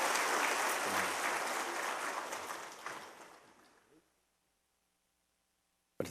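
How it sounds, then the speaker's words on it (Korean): Church congregation applauding during a Sunday worship service, loud dense clapping that fades away over about four seconds, then silence before a brief sharp sound at the end. "우리 뜨거운 박수로 축하해 주시기 바랍니다"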